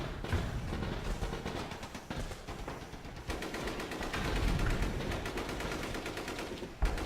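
Gunfire from units in the video game Radio General, a steady run of rapid, overlapping shots with a short pause near the middle, heard throughout with no talk.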